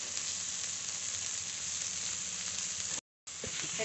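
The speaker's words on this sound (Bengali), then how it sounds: "একটু জল দিয়ে কষিয়ে নেব ভালো করে। মশলা খুব ভালো করে কষিয়ে নিয়েছি।" Spiced masala with chopped tomato, salt and turmeric sizzles steadily in a pan for a few seconds, then drops out briefly and resumes a moment later.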